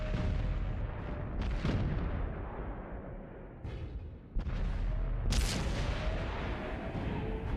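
Gunfire in a video game match, dense and continuous booming shots with several louder bursts rolling over a heavy low rumble, loud and close with no break.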